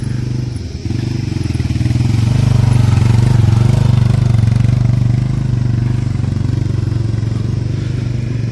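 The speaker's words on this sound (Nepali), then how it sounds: "हाम्रो अब अर्को बाइक आउँदैछ" A motorcycle engine rumbles loudly and steadily after a brief dip, swelling as it comes closer along a rough road, then holding a close, throaty drone.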